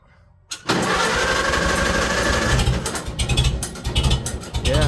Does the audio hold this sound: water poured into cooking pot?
no